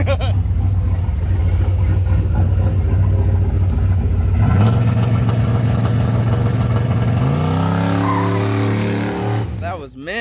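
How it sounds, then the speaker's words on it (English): A turbocharged Chevrolet Canyon pickup with Holley EFI boost control launches in second gear, its engine droning loud and steady before the revs shift and climb as it pulls away, then fading at the end. "we're gonna second gear launch"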